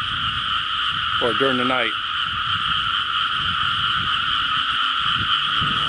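Frogs croak around a hundred-year-old Thai home at night, forming a dense, continuous chorus of loud, ringing calls. Someone speaks briefly over the chorus.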